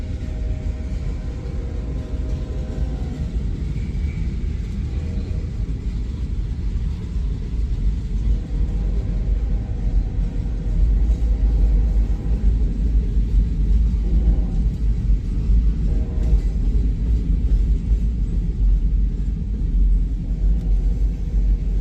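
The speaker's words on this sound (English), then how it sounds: "I think this is going to be a fairly long train." CSX freight train passing in Comer, Georgia: a loud, continuous low rumble of rolling cars and wheels on track, steady and close throughout with a slight swell midway and no voices.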